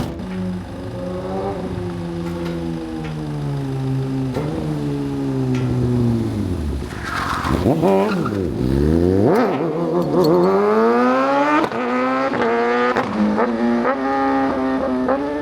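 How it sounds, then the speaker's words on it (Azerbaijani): Motorcycles being ridden nearby rev hard and loud, their engine note climbing and falling in repeated sweeps, with a sharp dip and surge midway as the riders throttle up again. "Orada da motosiklet sürürlər."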